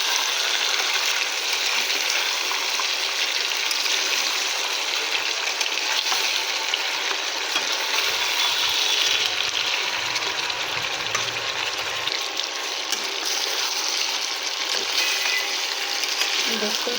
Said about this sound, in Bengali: কয়েক মিনিট এটাকে খুব সুন্দরভাবে কষিয়ে নিতে হবে।